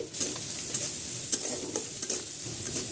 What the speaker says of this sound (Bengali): পেঁয়াজ আমি লাল লাল করে ভেজে নেব। ভাজা পেঁয়াজের ভিতরে লবণ দিয়ে দেব।